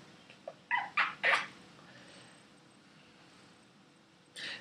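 A cat meows a few times in quick succession, short and fairly faint bursts over a quiet indoor hush, with one more brief cry near the end.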